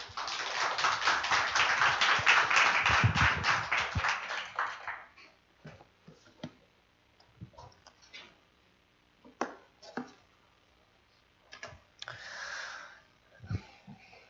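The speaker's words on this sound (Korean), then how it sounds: "박수로 환영하겠습니다" A church congregation claps to welcome a visiting missionary, a burst of quick, fairly close hand claps lasting about four seconds, then fading into scattered taps, thumps and soft breathing.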